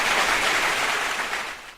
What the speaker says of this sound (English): Was that my round of applause then?